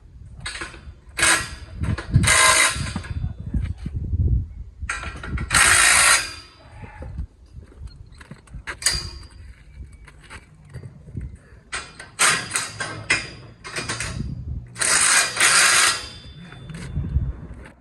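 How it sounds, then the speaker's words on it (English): Double couplers on steel scaffolding tubes are tightened in turn, giving close, repeated ratchet clicks in short bursts along with metallic knocks and handling noises, loud and spread over the whole stretch, with no talk. "I just like to go around all of the doubles and just give them a little tighten up and check"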